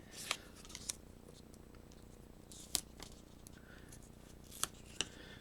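Quiet snips of scissors, a handful of sharp clicks spaced irregularly, with faint rustling and handling noise in between.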